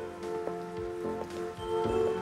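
Steady rain patters on a surface, with scattered drops and a constant wash of noise underneath, no voices.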